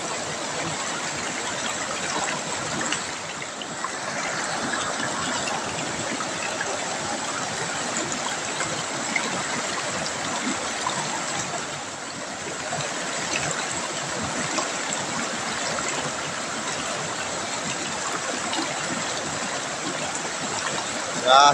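The fast, swollen Talo River rushes past in a loud, continuous broadband roar from start to finish, heard close up with little variation and no clear voices over it.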